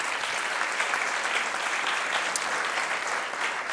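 Conference audience applauding, a dense, even wash of many hands clapping that holds steady throughout at moderate distance, with no voices standing out.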